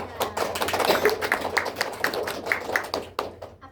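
Students in a classroom clap their hands for a classmate: a burst of sharp, irregular claps from several people, fairly close and lasting a few seconds.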